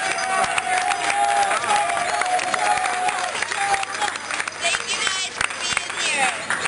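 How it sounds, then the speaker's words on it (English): A dinner audience at a Shamrock dinner claps and cheers for an honoree, a loud, dense burst of applause with scattered voices and whoops rising over it. "how about Shona? A round of applause."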